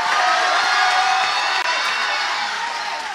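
A church congregation at a prophetic service cheers and shouts with loud clapping, a dense, steady roar of many voices close by for the whole stretch.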